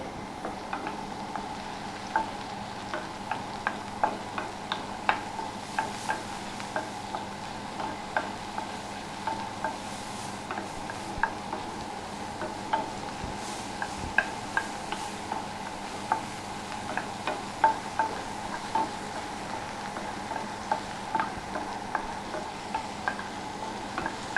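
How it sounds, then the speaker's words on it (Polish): Quiet, steady sizzling of mushrooms frying in a pan, with soft intermittent ticks and stirring clicks throughout. "Smażymy pieczarkę około 2-3 minut."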